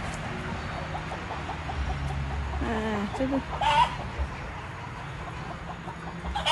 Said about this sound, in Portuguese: Acho que é tudo galinha mesmo.